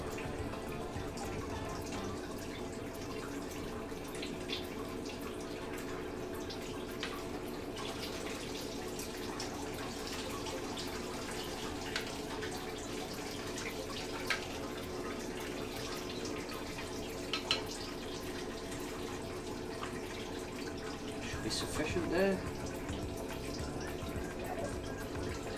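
Wort drains steadily from a Grainfather G40 brewing system during a 40-litre Irish stout brew day, a continuous close trickle and splash of liquid with a brief louder clatter near the end.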